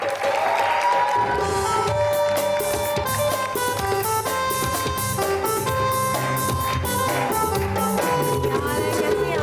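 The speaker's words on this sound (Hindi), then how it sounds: "बहुत सारी तालियां" A TV studio audience applauds steadily throughout, dense and sustained clapping mixed with bright music playing loudly underneath.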